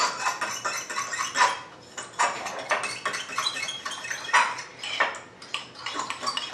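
A fork scrapes and clinks against a pan while stirring taco meat seasoned with chili powder, a steady run of soft metallic scraping and taps at close range.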